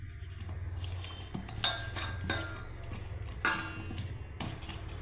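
Small eggplants are mixed by hand with rice powder and cornflour in a bowl, giving soft intermittent clinks and scrapes of utensils and dishes over a low steady background hum, fairly quiet throughout.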